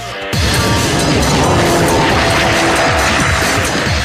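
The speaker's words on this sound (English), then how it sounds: "welcome everyone to the fastest car we've ever tested here" Koenigsegg CC8S supercar driven fast on a test track, its engine roaring loudly and continuously with sustained tire squeal, close and dense with no talk over it.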